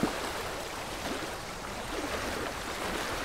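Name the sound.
waterfall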